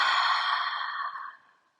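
A single long, breathy exhale out through the mouth during a yoga breathing exercise, loud and close at first, then trailing off into silence.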